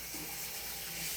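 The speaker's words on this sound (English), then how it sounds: "You can just run your hands under the faucet there" Water runs steadily from a kitchen faucet in a continuous, even hiss and splash, close and fairly quiet, with no talking.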